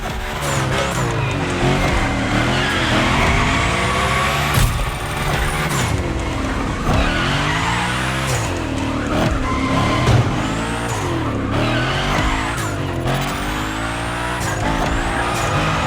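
A car in The Crew Motorfest gymkhana, the Unicorn, revs hard and slides, its tyres squealing through long drifts while the engine note rises and falls steadily throughout, loud and close.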